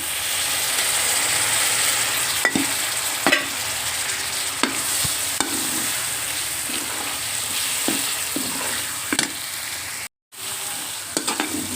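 Fish roe curry with homemade masala frying in a pan, a steady close sizzle with occasional stirring clicks throughout, a brief drop to near silence near the end before the sizzle returns.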